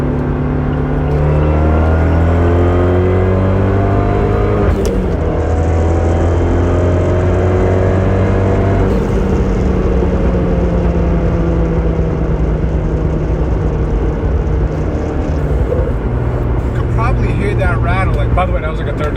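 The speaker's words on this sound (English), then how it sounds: "that was like a third to fourth gear pull" A lightweight car running a Eurocompulsion Phase 3 tune pulls hard through third into fourth gear in extreme heat, its engine note loud and close, climbing steadily, dropping at each shift and climbing again with a whirring drone throughout.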